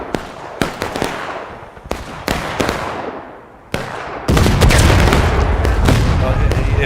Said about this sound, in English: That cannon just lit them up.